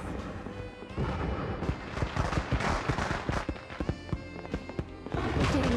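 Fireworks spelling a marriage proposal burst overhead in a dense run of sharp bangs and crackling pops, some loud and close, with faint voices in the background.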